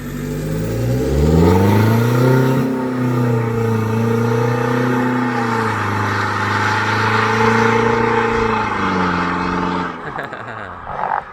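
A car with an automatic transmission and an ECU tune revs up and accelerates loudly, its engine tone climbing smoothly and holding a steady drone before easing off near the end.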